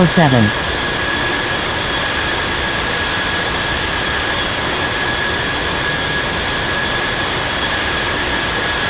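An Air Asia Airbus A320 jet takes off at Sydney International Airport, a steady broadband roar with a high whine, loud and continuous throughout.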